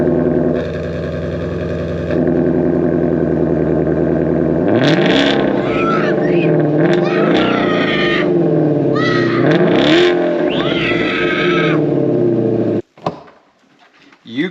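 A Ford Mustang GT350's 5.2-liter Voodoo flat-plane crank V8 idles loudly, then is revved repeatedly in sharp rising and falling sweeps, close and dominant, before cutting off abruptly near the end.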